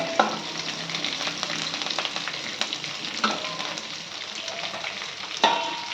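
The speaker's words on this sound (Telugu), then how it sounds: "ఇవన్నీ కొంచెం బాగా ఫ్రై అవ్వాలి మీడియం ఫ్లేమ్లో పెట్టుకొని ఫ్రై చేసుకుంటే బాగుంటుంది" Onions, green chillies and curry leaves fry in oil in a pan over a medium flame, a steady bright sizzle with occasional pops and spatters and a few scraping stirs, close and continuous.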